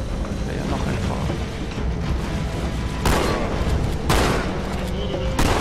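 Handgun fire in the video game Halo 2 (Master Chief Collection): a few sharp, loud shots ring out at intervals over a dense, constant background of game noise.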